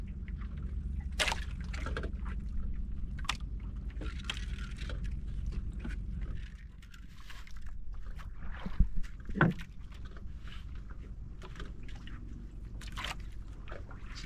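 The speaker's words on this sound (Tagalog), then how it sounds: "Sidatingan to yung ibang bangka." Boat engine droning steadily on the water as another boat approaches, with scattered splashes and water sounds over the low hum, no clear voices.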